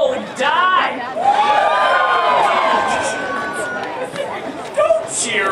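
A live comedy crowd cheers and whoops loudly, rising into a sustained roar of voices over several seconds before tapering off.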